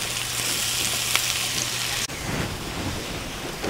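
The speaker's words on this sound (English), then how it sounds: "Then add your onions. Saute them a couple minutes till they're starting to brown." Onions sautéing in a pan of melted fat give a steady, close sizzle with a broad hiss that runs the full length, and the tone shifts slightly partway through.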